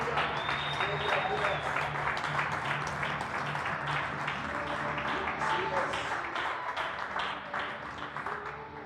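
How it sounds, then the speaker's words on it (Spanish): A church congregation applauds during a Spanish-language service, sustained fairly faint clapping from a crowd that slowly tapers off, with some murmuring voices beneath. "Dale ofrenda de aplauso al Espíritu Santo en esta tarde."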